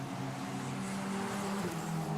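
Identical Formula Renault single-make race cars run at Imola during qualifying, their engines a continuous buzzing drone as several cars pass close by with shifting pitch.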